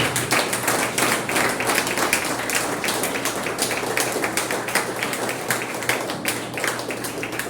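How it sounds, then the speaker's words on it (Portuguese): A church congregation claps in praise to the Lord after a sermon, with many hands beating in a fairly even rhythm, loud and sustained throughout. "E as palmas logo ao Senhor."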